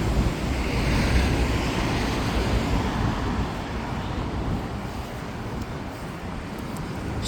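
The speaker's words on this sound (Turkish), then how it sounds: "kışın deniz biraz böyle korkutucu, ürpertici oluyor ama yazın e, çok mükemmel yani" Sea waves wash steadily onto the beach shore at Ünye in the early evening, a constant rushing surf mixed with gusty wind noise on the microphone and no voices.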